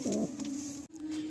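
A Chennai breed pigeon gives a brief, low, soft cooing call, one sustained throaty coo heard close and quiet with no talking.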